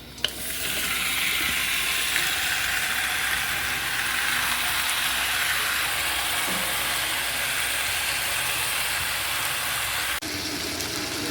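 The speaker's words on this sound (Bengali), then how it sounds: "চিকেন মাখাটা এখন আমি কড়াইয়ের মধ্যে দিয়ে দিলাম।" Marinated chicken sizzles loudly and steadily in a hot kadai for about ten seconds, with occasional scraping and stirring and no talking.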